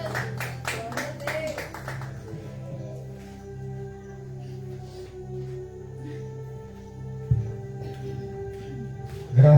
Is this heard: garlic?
no